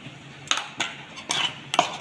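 Dhokla batter being stirred after Eno is added, a spoon clinking and scraping against a metal bowl in about four quick strokes, close and fairly quiet.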